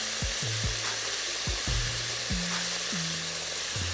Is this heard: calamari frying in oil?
yes